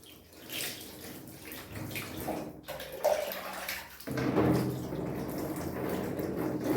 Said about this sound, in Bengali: এখন আমি জল ঢেলে এটা দেখবো ফ্রেমটা ঠিকভাবে ছাপ এসছে নাকি